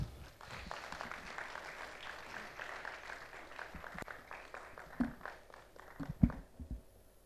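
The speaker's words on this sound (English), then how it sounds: "Can we have a round of applause, please?" An audience at the 7th WAF Awards 2019 jury felicitation applauds at moderate volume, a steady wash of clapping with a few louder individual claps standing out near the end.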